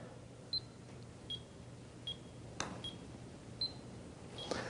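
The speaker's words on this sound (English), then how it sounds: "I'm going to listen for the loud beep, and that's going to be my trigger to start." An EyeLine Golf Metronome PRO gives a golf practice beat: short, high electronic beeps repeat at an even, steady pace, with a couple of sharp clicks in between, over a quiet background.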